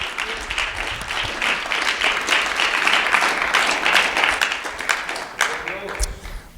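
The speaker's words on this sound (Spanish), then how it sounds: "Fuerte el aplauso si es para la gloria del Señor." A church congregation applauds during a Spanish-language sermon, producing dense, steady clapping that carries for several seconds, with voices mixed into the crowd noise.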